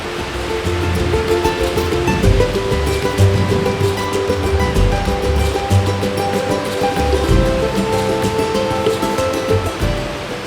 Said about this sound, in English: Here there is the first cascade. It's a little one.